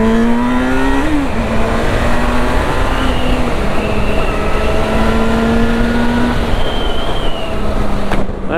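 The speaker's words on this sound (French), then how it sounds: "On va faire vite fait une petite accélération." A Yamaha FZ6 motorcycle engine pulls hard under acceleration, its steady rising whine climbing in pitch through the gears, loud and close throughout with no talking.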